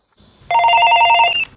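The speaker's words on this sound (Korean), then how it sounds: "갑자기 걸려온 전화에 놀라게 되고" An electronic telephone rings loudly with a bright, buzzing trill for about a second after a faint lead-in tone, signalling an incoming call.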